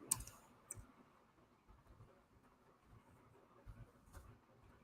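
Soft, scattered clicks of a computer keyboard being typed on, a few sharper taps standing out over a quiet room background, with no talking.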